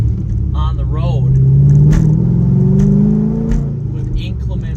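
Chevrolet C6 Corvette V8 driving on wet roads in rain, a loud, close, deep engine rumble rising and falling with throttle while someone talks over it.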